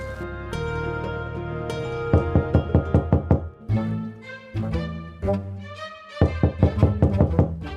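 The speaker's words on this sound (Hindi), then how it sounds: "ये कौन पागलों की तरह दरवाजा बजा रहा है इस टाइम?" Someone bangs hard on a house door at night in repeated loud bursts of heavy knocks, close and insistent. The knocks play over a sustained musical background.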